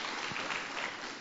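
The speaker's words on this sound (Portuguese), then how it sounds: "Mas as palmas é para Jesus, Espírito Santo." Audience clapping inside a church, a steady dense wash of applause filling the room without a break, with no talking over it.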